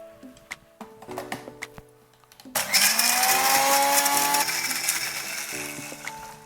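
Aloe vera gel and water are ground in a kitchen blender. A few light clinks and taps come first, then the motor surges into a loud, steady whirring grind that carries on close up to the end.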